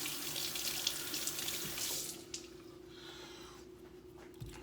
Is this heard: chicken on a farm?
no